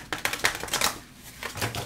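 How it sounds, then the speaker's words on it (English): Tarot cards are shuffled by hand in quick bursts of crisp riffling and slapping, a few sharp flurries up close with short pauses between. "Let's give them a little shuffle."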